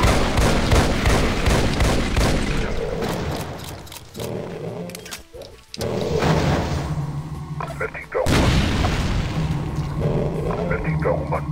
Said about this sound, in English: single shot's better for me. More accuracy, I guess. Although accuracy is not really great on a shotgun.